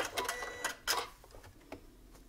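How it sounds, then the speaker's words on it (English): A sewing machine stitches a quarter-inch seam joining log cabin quilt squares in earth-tone fabric with beige thread, giving faint, quick mechanical ticks and clicks in short uneven bursts. "And sew my seam."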